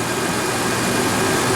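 A Toyota truck engine idles steadily up close, a smooth, continuous low rumble with even broadband hum and no talk over it.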